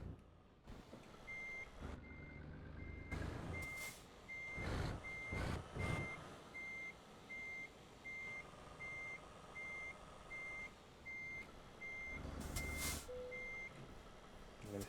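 A truck in a driving video game gives evenly spaced reversing beeps over a low engine rumble. The beeping is steady and moderately loud, with a few louder mechanical bursts and hisses in between.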